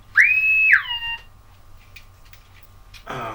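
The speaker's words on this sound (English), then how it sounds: "I really ought to turn that alarm off." An electronic alarm on a TRX-4 RC crawler servo setup gives a loud steady high tone for under a second, then a fainter lingering tone and a short buzzy burst at the end, with no talk.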